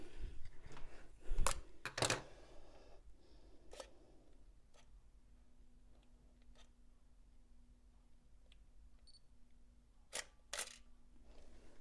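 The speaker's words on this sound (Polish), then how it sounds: "Słuchajcie dźwięku migawki." DSLR camera shutter firing, a couple of sharp clicks near the start and another pair near the end, close and crisp over a quiet room hum.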